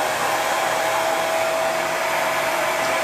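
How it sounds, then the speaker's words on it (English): A hair dryer blowing steadily, a loud continuous whoosh with a high whine, close by and without interruption. "this is where I get my hair dryer."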